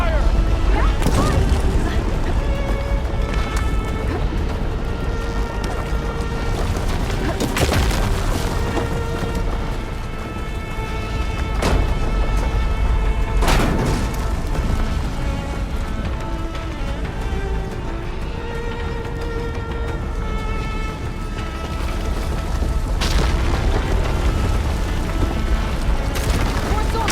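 Gunfire in the video game Horizon Forbidden West: sharp loud booms and crashing bursts break through a dense, steady wash of battle noise, with shouted voices and tonal game music running underneath throughout.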